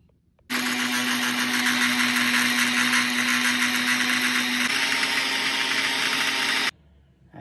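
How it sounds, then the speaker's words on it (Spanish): A blender whirs through a homemade natural collagen mixture, starting abruptly and running steady and loud with a high whine for about six seconds before cutting off, with no talking. "Lo vamos a deshacer un poquito así para que se ayude la licuadora, porque si no se calienta."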